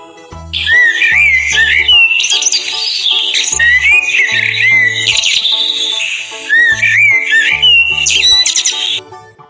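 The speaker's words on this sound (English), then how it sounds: "Robin." A robin sings in bright, rapid whistled phrases and trills, loud and close, repeating in bursts over a steady musical backing.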